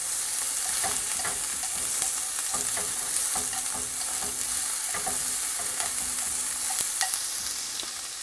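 Napa cabbage with wild fennel sautés in a pan, a steady bright sizzle broken by scattered scraping stirs throughout.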